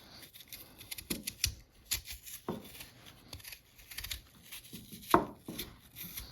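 A Worktuff Forester knife slicing through an apple, giving a series of short, close crisp cuts and rasping strokes with brief pauses, one sharper snap near the end, no talking.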